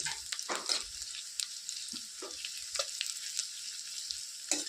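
Garlic and ginger sizzle in butter for a butter tadka, with a steady close frying hiss and occasional louder spatters and stirring scrapes.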